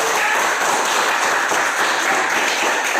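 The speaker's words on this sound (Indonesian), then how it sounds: "Berikan tepuk tangan kepada kelompok" Classroom applause for a student group after a filtration-tool activity, a dense steady wash of many hands clapping together, sustained and fairly loud throughout.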